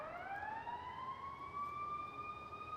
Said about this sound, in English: Oh, we have a siren.